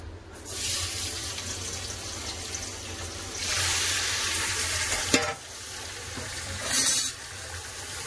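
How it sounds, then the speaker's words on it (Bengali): Loud, continuous sizzling of chicken frying in oil in a kadai, swelling in bursts as pieces are stirred, with a sharp metallic clink midway; nobody speaks. "এতে চিকেনগুলো ফ্রাই করে নেবো।"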